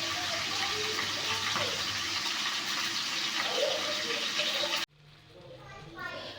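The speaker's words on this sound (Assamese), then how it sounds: "আৰু তলত যোনখিনি তেল আছে সেইখিনিও মই ওপৰত আকৌ এনেকৈ দি দিছোঁ" Hot oil is poured over a whole chicken in a pan, making a continuous loud sizzling hiss that holds steady for about five seconds before cutting off abruptly into quieter cooking sounds.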